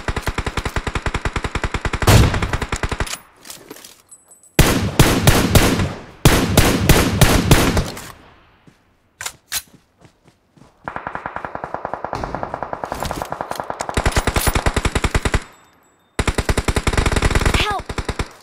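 Rapid bursts of automatic gunfire and single shots crackle loudly in a battle royale video game, arriving in dense volleys separated by brief silent pauses.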